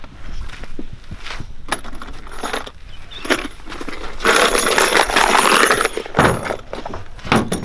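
Torx bits get rummaged from a pouch while a Nissan X-Trail T30 window switch is being replaced. Close metallic jingling and clinking come in uneven bursts, with one longer rattling stretch, and no voices.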